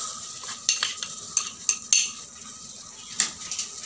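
Dried chillies, shallots and shrimp paste are pounded in a mortar for a Thai curry paste, giving sharp, irregular close knocks and clacks over a quiet background, no talk.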